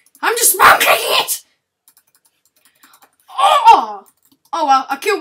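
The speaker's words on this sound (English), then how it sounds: "I'm just spam clicking it!" Rapid, repeated clicking of a computer mouse while playing a Capture the Flag game, arriving in quick bursts, with voices talking and laughing over it.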